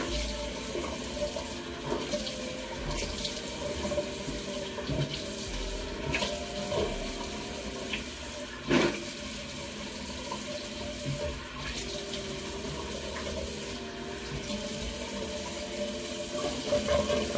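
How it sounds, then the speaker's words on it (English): Tap water runs continuously into a bathroom sink during a night-time face wash, a steady close hiss with brief splashes over it and no speech. "Go ahead and splash a little bit of water on my face just to open some pores."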